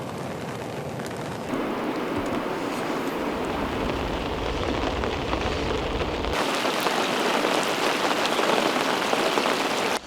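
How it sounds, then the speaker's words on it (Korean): Heavy rain pours steadily at a fishing spot, a dense loud hiss of drops on the surface that swells and grows harder partway through, with no voices. "비가 상당히 많이 옵니다"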